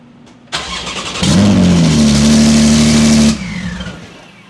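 Straight-piped Porsche 911 firing up and revving hard, a sudden loud blare that holds a sustained, raspy roar for about two seconds before cutting back to a rumbling idle.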